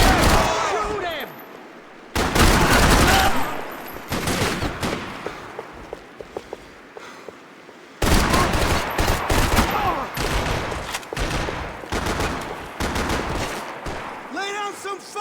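Heavy gunfire from a Max Payne 3 firefight, rapid automatic bursts and single shots crackling loudly in dense clusters, with shouting voices in between.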